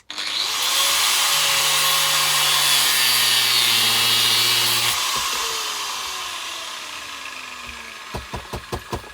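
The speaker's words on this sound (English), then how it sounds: "I'll just cut through with the grinder." An angle grinder cuts through metal with a loud, steady, high-pitched whine for about five seconds, then spins down as the disc slows, followed by a few sharp metallic knocks at the end.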